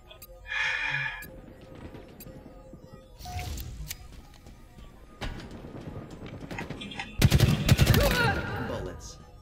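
Gunfire in a Call of Duty or Halo match, with bursts of shots and impacts in an opening spurt, a middle cluster and a loud dense volley near the end, over faint background game noise.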